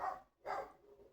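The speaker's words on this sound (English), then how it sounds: "he usually doesn't bark for very long" A neighbor's puppy barks outside through an open window, two short muffled barks a half second apart with a fading tail, heard at a moderate distance.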